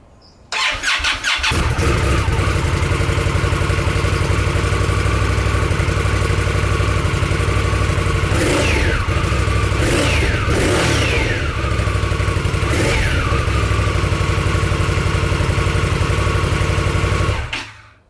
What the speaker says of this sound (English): you can hear the start with the stock exhaust